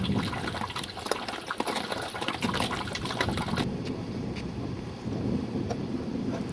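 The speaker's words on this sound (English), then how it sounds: "You see this creek right here. It's a little bit bigger." A small creek flowing off an Alaskan glacier near its terminal moraine, steady close water rushing and gurgling mixed with gusty wind buffeting the microphone, no talk.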